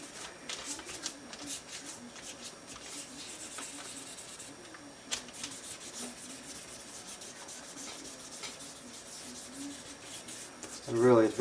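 Wet sanding of a guitar neck with 1500 grit sandpaper, a steady close rubbing and scraping in repeated strokes, with a brief louder sound at the end.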